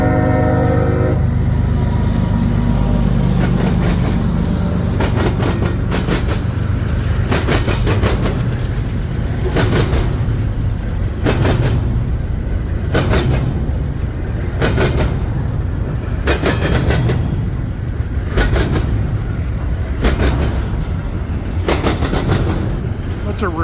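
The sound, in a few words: CSX freight train with locomotive and intermodal cars passing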